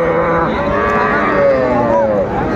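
Cattle, including small bulls and heifer calves, moo loudly and continuously, several long drawn-out lows overlapping amid the dense murmur of a crowded livestock market at Aftabganj.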